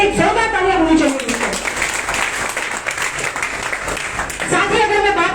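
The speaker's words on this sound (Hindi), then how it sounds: "जसवीर सर के लिए एक जोरदार तालियां होनी चाहिए" An audience at a business achievers' celebration breaks into loud, sustained applause, with a voice calling out over the clapping.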